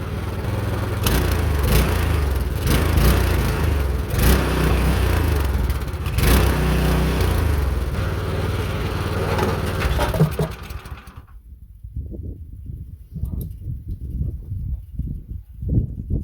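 A Meec SN210 snowblower's small engine runs steadily and loud for about ten seconds, then cuts out, leaving only faint uneven knocks and rustle.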